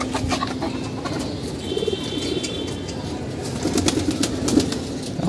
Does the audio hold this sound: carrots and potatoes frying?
no